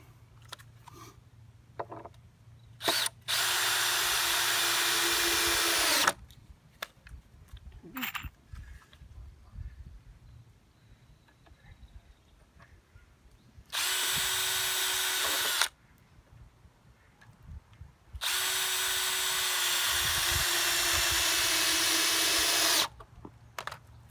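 A power drill drives 3-inch deck screws into a floating dock in three loud whirring bursts of a few seconds each, separated by quiet gaps with small handling knocks outdoors.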